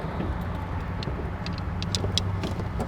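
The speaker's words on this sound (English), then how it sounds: "And off we go again. Foot on the gas, first gear" A 1934 Packard pulls away in first gear, with a steady low engine rumble and road noise throughout and faint light ticks above it, heard from close by inside or beside the car.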